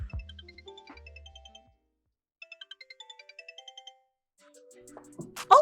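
A phone rings while a call is placed to a friend: a quiet, regular series of short electronic tone bursts, with melodic tones beforehand and a louder burst of sound at the end.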